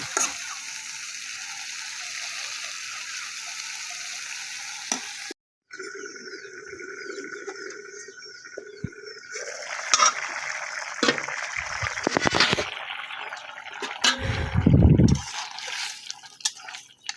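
Small fish chachchari frying in a pan, with a bright wet sizzle, metallic scraping and clattering of a spatula stirring, and a burst of louder bubbling near the end.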